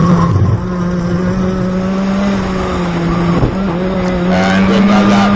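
A race car at speed on a circuit, engine loud and steady with a sustained droning tone, passing close by as it crosses the line, with a brief tyre squeal near the end and a commentator's voice faintly underneath.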